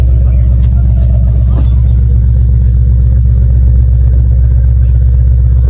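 A car's engine runs after starting at a crowded car meet in an E.Leclerc supermarket car park, giving a loud, close, continuous low rumble with a steady idle throb.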